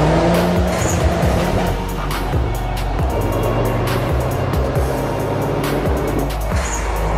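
Turbocharged 10th generation Honda Civic on air suspension accelerating hard, a loud, steady engine roar with squealing tires, heard close and without any talk over it.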